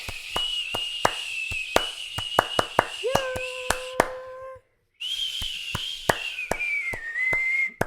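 A person whistles long, steady tones while sharp hand claps or taps keep a regular beat underneath; the whistle breaks into a stepped pattern, stops briefly, then returns.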